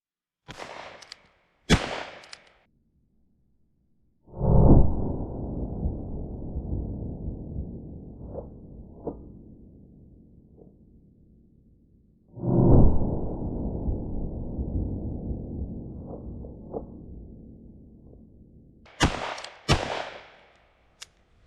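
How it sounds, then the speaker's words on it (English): Smith & Wesson Schofield revolver fired outdoors: two sharp shots near the start, two louder booming blasts with long decaying echoes mid-clip, and two more quick shots at the end, no talking. "Let's reload, grab some more rounds, shoot again"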